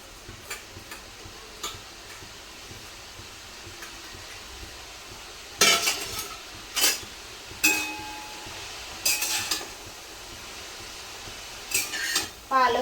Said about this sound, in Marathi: हे बघा चांगली पालक परतून घेते